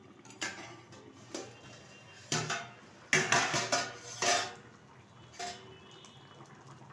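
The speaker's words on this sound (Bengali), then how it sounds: "ঢাকনাটা তুলে দিচ্ছি।" A lid is lifted off a cooking pot of katla fish curry with yam, giving a few metallic clinks and clatters over a low simmering background, with a louder burst of rattling midway.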